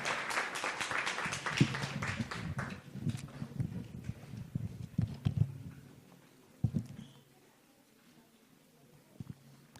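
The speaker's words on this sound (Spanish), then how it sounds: "Dale ese aplauso fuerte al Señor." A church congregation claps loudly for the Lord, a dense rattling patter of many hands that swells then thins out, leaving a few scattered claps and quiet room sound near the end.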